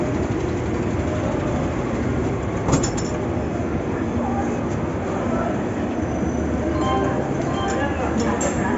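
The Netravati Express pulls into Thrissur railway station with a continuous loud rumble of rolling carriages and occasional metallic clinks, while voices murmur faintly in the background.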